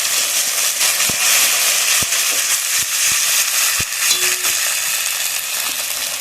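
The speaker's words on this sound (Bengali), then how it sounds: "টমেটোটাও দিয়ে দেবো, দিয়ে ভালোভাবে ভেজে নেবো।" Ginger-garlic paste and chopped tomato sizzle steadily in hot oil in a pan for a Bengali fish kalia, with a loud continuous broadband hiss broken by a few sharp pops and spoon clinks.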